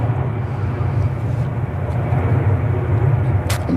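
EasyJet Airbus A320 airliner at Manchester Airport, a steady low jet-engine roar holding at an even level throughout, with a brief brighter hiss near the end.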